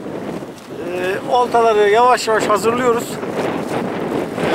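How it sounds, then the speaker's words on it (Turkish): Strong wind buffets the microphone on a cold shore during surfcasting, a rough, steady rush that continues throughout beneath a man's clear speech. "bugün gerçekten hava çok bayağı bir şiddetli rüzgar olacak"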